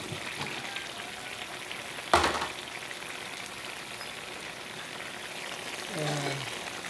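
Eggplant for pakbet drops into a hot frying pan with a sharp clatter, followed by a steady close sizzle of frying.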